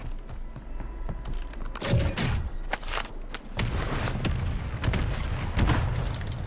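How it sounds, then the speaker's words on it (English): Mortar strike explosions in a first-person shooter game, a rolling series of loud booms and blasts hitting one after another over scattered gunfire, dense and continuous throughout. "Mortar strike inbound now."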